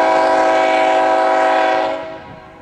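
A CSX freight train, Q464, rolls past with its horn blaring loud and close in a sustained chord over the rumble of the cars, then the horn cuts off and the train noise fades.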